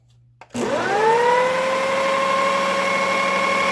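A kitchen blender kicks on after a brief pause and runs at a steady, loud motor whine while pureeing homemade hummus a second time to smooth out grainy chickpea paste.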